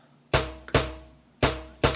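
Four punchy snare hits in an uneven pattern, each a sharp crack with a short ringing tail, loud and isolated with no voices.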